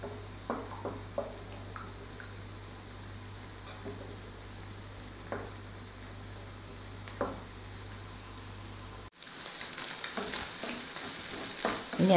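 Eggs frying in a pan while being stirred, with a steady sizzle broken by scattered scraping and clinking of the spoon, the frying growing brighter and louder toward the end.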